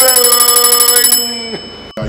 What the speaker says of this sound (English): please don't ever stop ringing that little bell